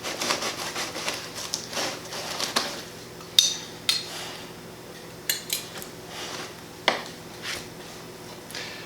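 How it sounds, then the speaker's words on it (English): A knife slicing into browned Easter ham, heard as scattered sharp clinks and scrapes of metal against a plate or board, close and fairly quiet, with no talking. "I will now cut the first slice"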